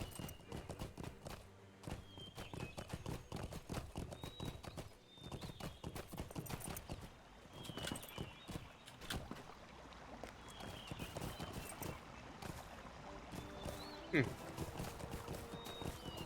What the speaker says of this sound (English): I just ride my horse through the mill